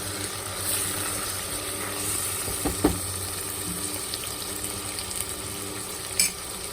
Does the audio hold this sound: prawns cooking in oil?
yes